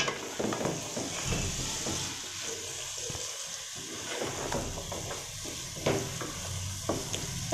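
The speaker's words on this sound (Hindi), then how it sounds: "दाल को अच्छे से मिक्स कर लेंगे।" Dal being stirred into eggs in a pan, a soft continuous sizzle broken by irregular scraping and clinking strokes of the spoon against the pan.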